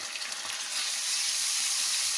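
Garlic-ginger paste hits hot oil with light brown onions in a pan, giving a bright, steady sizzle that swells slightly, close and continuous with no talk.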